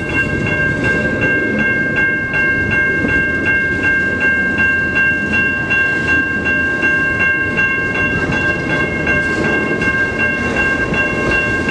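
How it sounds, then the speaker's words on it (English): A CN freight train rolls steadily through the Mill Street railroad crossing in Ecorse, Michigan, with continuous loud rumble and wheel rattle, while steady crossing-bell tones ring throughout; no talking. "This is the same train I caught at Oak Street."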